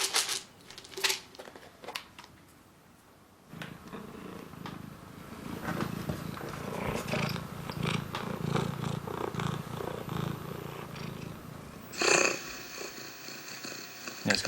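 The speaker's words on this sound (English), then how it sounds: "this is the purr that cats do when they want something from their owners" Domestic cat purring while waiting for food, a close, continuous rumbling purr with shifting bouts, broken by a few rustles and sharp clicks near the start and end.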